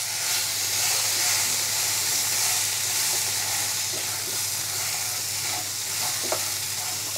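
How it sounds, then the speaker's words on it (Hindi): Spices fry with vegetables in a pan for Bengali catfish curry, giving a steady close sizzle and hiss with occasional soft stirring scrapes, no voices. "अच्छे से मसाले को सब्जी के साथ भूनेंगे।"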